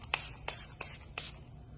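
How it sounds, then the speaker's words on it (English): Four short bursts of hydrating makeup setting spray hiss out at a steady rhythm, each a crisp airy puff close by, with no talking. "Now I'm gonna use the Hydrating Setting Spray."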